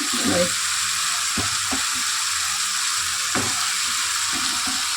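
Potatoes and eggplant frying in a pan, a steady hiss of oil with a few short stirring scrapes and clunks, close and moderately loud.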